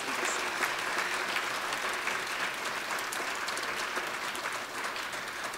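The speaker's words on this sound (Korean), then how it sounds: "함께 헌신을 결단하는 우리 남선교회 회원들에게도 격려의 박수" Sustained applause from a church congregation at a Wednesday worship service honoring the men's mission society, steady and dense clapping filling the room from start to finish without any talk.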